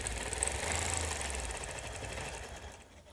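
Sewing machine stitching in the ditch of a quilt guided by an arch template, a fast, steady mechanical whir that fades and stops near the end.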